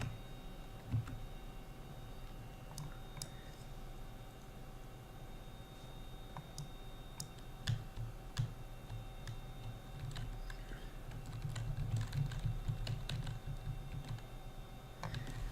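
Computer keyboard keys click sporadically and faintly at close range, in irregular single taps and short bursts over a low steady hum.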